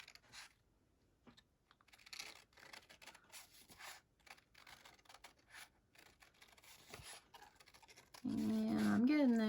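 Soft, intermittent snips and scratchy scissor cuts through paper sound close and faint, with slow, careful pauses, before a louder tonal noise comes in at the end.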